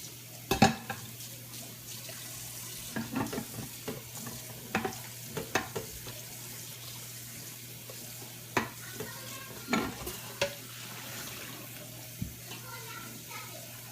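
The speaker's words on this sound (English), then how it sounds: "So I'm going to need to wash my pot." A cooking pot being washed at the stove, water splashing and sloshing with scattered clatters and knocks of the pot, fairly quiet and close against a low steady hum.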